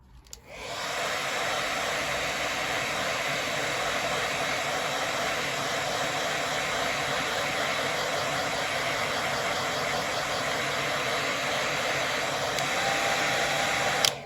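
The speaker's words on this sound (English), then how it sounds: "I'm even going to get a quick blast with dryer because I need it dry now" A hair dryer blows steadily at close range, a loud continuous whooshing roar that runs unbroken for the whole stretch before cutting off.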